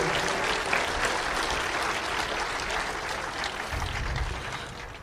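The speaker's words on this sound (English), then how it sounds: "Let's give another round of applause for Dr." Audience applause fills a hall at a town hall meeting in Red Deer, a steady dense clapping from many hands that holds for several seconds before fading out near the end.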